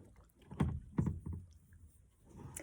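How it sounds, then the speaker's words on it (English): Small boat paddles dipping and pulling through water, a few soft splashing strokes in a quiet outdoor setting, faint and close. "when I was paddling over here to this little area, and I was listening to the little paddles"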